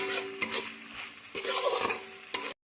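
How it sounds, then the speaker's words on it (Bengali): Spices with turmeric and salt fry in a pan for a young jackfruit roast, stirred in a few distinct scraping strokes over a faint sizzle, close, with no voices, ending abruptly. "ভালো করে মশলাটা কষিয়ে নেব"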